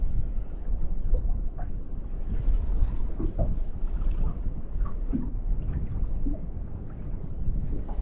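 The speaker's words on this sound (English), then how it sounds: "I'm facing east now and that wind is blowing directly in my face." Steady wind buffets a fishing boat at sea off the UK, a dull, continuous roar and rumble close to the microphone with no talking.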